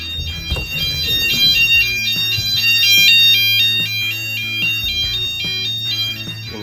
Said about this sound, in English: Here, I'm gonna activate the sounder.